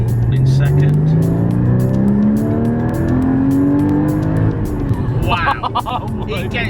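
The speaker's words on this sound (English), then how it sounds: "It gets faster as you rev it." Porsche Cayman GT4 engine revving hard as the car accelerates in second gear, a loud, rising engine note climbing steadily in pitch from inside the cabin, then a brief shift near the end.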